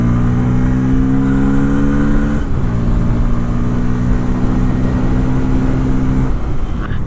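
A Bajaj Pulsar N250 motorcycle's 250cc engine pulls hard under acceleration, loud and close. Its steady drone climbs in pitch, drops briefly at a gear change, then climbs again before backing off near the end.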